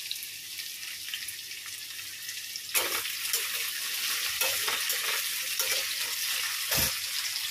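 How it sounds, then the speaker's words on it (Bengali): Potatoes frying in hot oil with nigella seeds, a steady close sizzle that jumps louder partway through as they are stirred, with a few sharp clatters near the end. "তেলের মধ্যে কালো জিরে ফোড়ন দিয়ে আলুটা ভাজতে বসিয়ে দিয়েছি"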